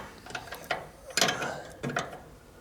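A brake pipe fitting on a classic car tightened with a ratcheting wrench, several short bursts of close metallic clicking separated by brief pauses.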